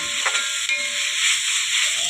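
Ginger and garlic sauté in a hot pan, giving a short burst of loud, hissing, steamy sizzle that holds steady throughout.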